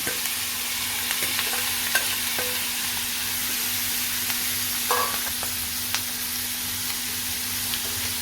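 Fresh kolim shrimp frying on a garlic tempering, with a continuous close sizzle under a low hum and regular spatula stirs and scrapes ticking through it.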